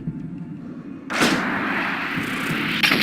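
A single sharp, loud sniper rifle shot in the video game Sniper Ghost Warrior 2 cracks suddenly, followed by a sustained echoing rumble and a faint second report near the end.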